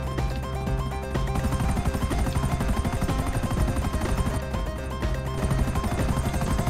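Helicopter in the GTA Online video game flying steadily, a loud continuous rotor and engine drone with dense layered game sound throughout, no talking.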